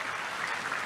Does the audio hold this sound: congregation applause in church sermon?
yes